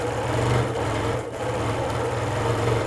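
A Bernina sewing machine stitching free motion quilting runs at a fast, even mechanical whir close by, with its needle ticking rapidly and steadily throughout.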